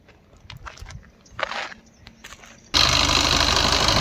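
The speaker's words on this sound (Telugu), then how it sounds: "ఇంజన్ సౌండ్ చూసుకోవచ్చు. ఇంజన్ కూడా ఆన్లో ఉంది, స్మూత్ ఉంది." A 2015 Maruti Swift Dzire VDI diesel engine: a few soft knocks and shuffles in near quiet, then the engine cuts in abruptly with a loud, steady, close idle that holds to the end.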